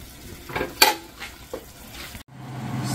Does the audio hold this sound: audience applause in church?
no